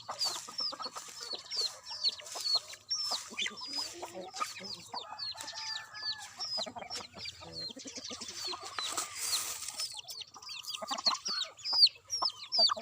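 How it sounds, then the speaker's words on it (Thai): Thai native chickens clucking and chattering in a flock outdoors, many overlapping calls at moderate volume, with occasional faint crowing in the background. "พาชมไก่บ้านไก่ไทย"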